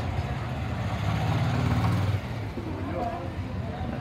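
A Yamaha R15 V1 motorcycle in Bangalore idles with a low, steady exhaust hum that swells briefly, then settles. The engine sits close and moderately loud, and people talk around it.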